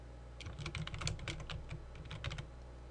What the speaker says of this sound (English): type in my new text label